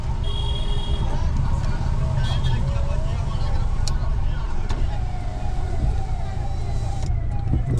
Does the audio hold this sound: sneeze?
no